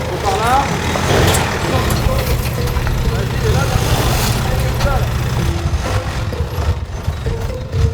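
A boat's outboard motor runs loud and steady, a continuous low engine rumble close by, with people talking over it.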